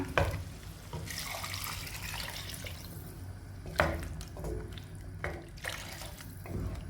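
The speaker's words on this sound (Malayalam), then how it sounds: "ഈ സമയത്ത് നമുക്ക് കറിക്ക് ആവശ്യത്തിനുള്ള വെള്ളം ഒഴിച്ചു കൊടുക്കണം" Water pours steadily from a measuring cup into a pot of pumpkin sambar curry with softened tomatoes, a continuous close splashing rush with a few clinks of the pot.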